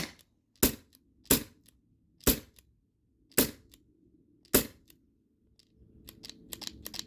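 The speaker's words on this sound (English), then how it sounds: "I'm gonna dry fire this a couple times" A Twin T4E HDP50 launcher on an empty 20oz CO2 tank is dry fired five times, each a sharp, dry mechanical click spaced about a second apart, close and alone, followed by faint handling noise.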